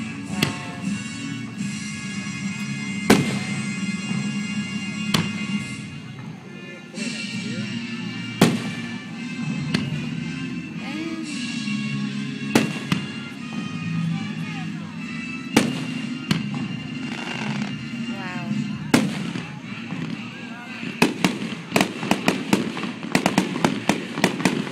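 Fireworks display at a Fourth of July-weekend show in Henderson, Kentucky: repeated sharp bursts and booming explosions, some close and loud, over a steady crackling rumble, with a rapid finale-like cluster of pops near the end.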